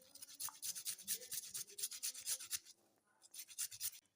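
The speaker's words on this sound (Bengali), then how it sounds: "সিদ্ধ করা আলুতে আদাটা ঘষে দিলাম" Ginger is grated onto boiled potatoes in a kitchen, giving quiet, rhythmic rasping strokes about four per second, with a short pause before the grating resumes.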